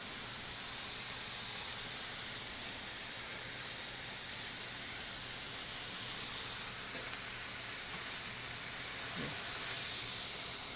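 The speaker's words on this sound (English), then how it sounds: "Getting a nice browning on the patties there, Jean Pierre style." Steady, loud sizzling hiss of patties frying on a stainless griddle over an induction range just under medium heat, continuous throughout with no talking.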